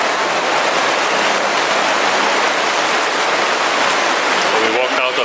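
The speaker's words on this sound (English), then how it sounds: "suddenly look at this rain" Sudden heavy rain pours down outside a cathedral in Mexico City, a dense, loud, continuous hiss of rain on the ground. It holds steady throughout, and a faint voice comes in near the end.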